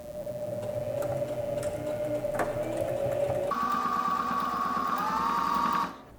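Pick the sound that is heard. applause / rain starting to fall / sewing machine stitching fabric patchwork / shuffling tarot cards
sewing machine stitching fabric patchwork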